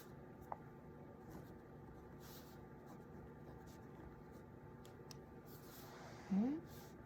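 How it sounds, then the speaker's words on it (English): Hand-writing a large title on paper: soft scratchy pen strokes in short bursts, faint and close, with a voice talking over parts of it. "I'm going to write the title of it kind of big"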